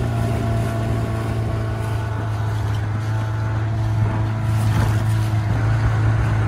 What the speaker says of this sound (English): you have the aqua buses traveling around, taking people from place to place